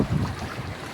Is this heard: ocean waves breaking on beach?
yes